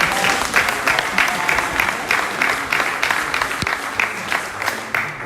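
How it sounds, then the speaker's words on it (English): Funeral service congregation applauding together, a dense steady wash of many hands clapping close by and fairly loud for the whole stretch, with no talk over it. "Give her Brenda again a nice round of applause."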